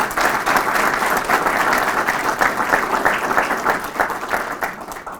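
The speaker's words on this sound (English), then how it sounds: "Would you all join me in giving the steering committee a round of applause?" An audience at a professorship and recognition celebration applauds the steering committee, a loud, full round of clapping sustained steadily and tapering slightly near the end.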